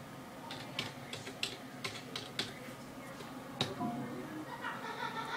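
Someone types on a computer keyboard, making irregular bursts of crisp key clicks at close range, fairly quiet, with faint speech in the background.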